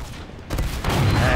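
Rapid gunfire from the video game Team Fortress 2, a dense fusillade of loud shots that builds after a brief quieter lead-in and keeps going steadily.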